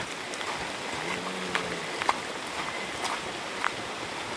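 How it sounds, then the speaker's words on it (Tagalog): Heavy rain pours outdoors as a dense, steady hiss, with a few faint knocks and splashes standing out briefly over the wash. "Grabe sobrang ulan."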